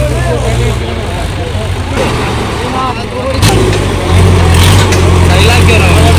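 Sonalika 750 tractor engine running at a field competition with an 18-disc implement, a loud steady diesel drone that swells louder after a sharp bang midway, with voices talking over it.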